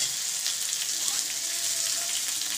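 Cauliflower florets frying in hot oil while being stirred, a steady bright hiss of sizzling that holds evenly throughout without any voice.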